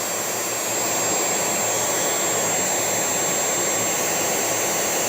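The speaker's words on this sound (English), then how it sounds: "I'll just demonstrate how loud and how fast this vacuum goes." A Dyson Outsize cordless vacuum cleaner runs on its lowest setting close by with a steady, even whooshing hum and a faint high-pitched whine, no talking.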